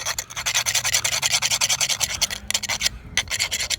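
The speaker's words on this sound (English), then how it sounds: "You cannot grind it enough." Flint arrowhead edge being ground in rapid, steady rasping strokes, loud and close, a continuous scratchy back-and-forth rhythm with a brief pause near the end.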